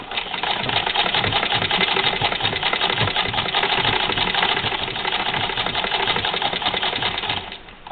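Singer 1588 sewing machine stitching sweater quilt sections together, a fast, steady mechanical whirring and clatter running continuously, close and loud, before slowing to a stop at the end.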